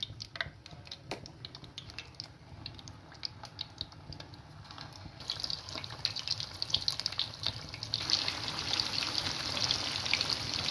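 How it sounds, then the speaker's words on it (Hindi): Cauliflower koftas drop into hot oil in a pan, a faint crackling fry that swells into a louder, brighter hiss as more go in, with small clicks and bumps along the way. "ऑयल हमारा गर्म हो गया है, इसके अंदर अब मैं कोफ्ते डाल रही हूँ।"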